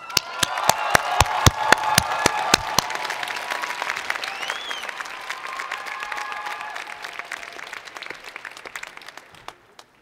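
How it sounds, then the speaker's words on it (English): Graduates at a winter commencement ceremony are met with a large hall's applause, sharp individual claps standing out over dense crowd clapping that slowly thins and fades out. "So graduates of BSOS, please stand and accept my applause."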